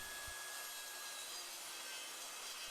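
A small job site saw runs steadily through a deep 45 mm wooden bed slat, a continuous loud, even hiss and whine with no pauses and no voices.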